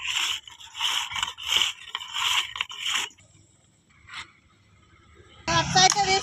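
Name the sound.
rubbing a metal ring to smooth it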